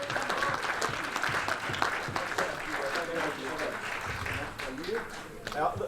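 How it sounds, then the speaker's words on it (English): An audience at a Rotary awards ceremony in East London breaks into steady applause, a dense crackle of many hands clapping close by, with some voices and cheers mixed in. "Give a round of applause."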